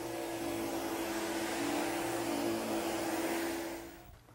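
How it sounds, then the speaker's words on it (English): A canister-type vacuum cleaner runs steadily for several seconds with a loud, even motor whine and airflow hiss, then winds down near the end, with no voices. "We use these canister-type vacuum cleaners"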